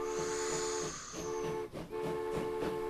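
A steam train whistle in the railway game Transport Fever 2 sounds with a sustained hiss and steady tonal whistle, then briefly cuts out before resuming with rhythmic chuffing underneath.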